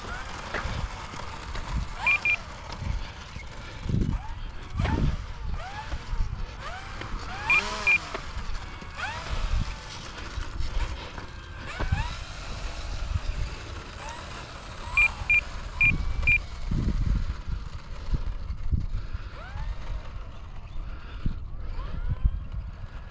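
An E-Flite Turbo Timber RC plane's electric motor whines and swells in pitch outdoors in a crosswind, heard over steady wind rumble with a few short electronic beeps.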